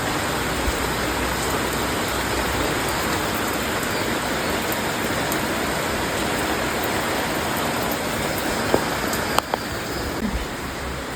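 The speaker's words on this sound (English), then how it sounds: "it just started raining." Steady outdoor rain falls as a dense, loud hiss of drops on surfaces, continuous throughout with a few sharper spatters late on and no talk.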